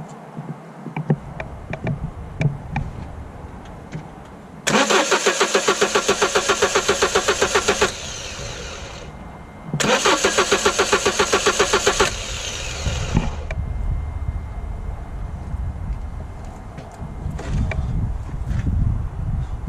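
A diesel HDI/DCI car engine cranking without catching: two long rhythmic starter-motor bursts of about three seconds each, loud and close, separated by a pause, then a quieter hum.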